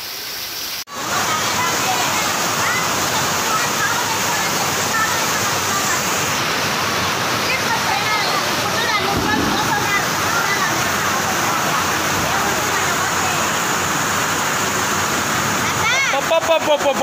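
Floodwater gushing through the Mahanandi temple after torrential rain in Kurnool district, a loud, steady roaring rush of water that continues without a break, close by, with voices faintly under it.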